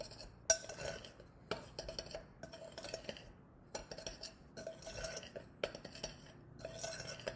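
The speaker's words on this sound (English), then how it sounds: "I'm going to take a spoon, and I'm just going to mix them all together" A spoon stirs flour, cream of tartar and salt together in a bowl, giving repeated soft scraping strokes and light clinks against the bowl in a steady rhythm, quiet and close with no talking.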